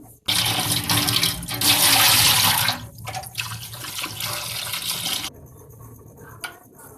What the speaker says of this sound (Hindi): आलूओं को पील ऑफ करने के बाद हम अच्छे से धो लेते हैं।